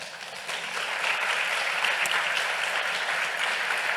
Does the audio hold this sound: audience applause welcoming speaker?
yes